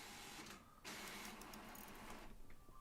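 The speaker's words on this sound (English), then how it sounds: "my printer just like randomly started going off" A home printer suddenly starting up on its own, giving a faint, steady mechanical whirring and rattling that swells after a brief dip and runs on continuously, with no talk.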